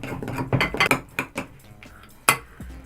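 Homemade hair cream of tea tree and almond oil being stirred in a container, a run of close, irregular clinks and scrapes of a utensil against the container.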